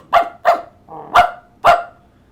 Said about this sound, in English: Orville barked at the boys.